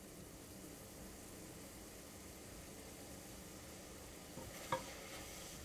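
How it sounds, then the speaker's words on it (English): Leeks sweating gently in a pan, giving a soft, steady low sizzle with a faint scrape of stirring near the end. "I'm going to sweat them down for around 5 minutes, occasionally stirring"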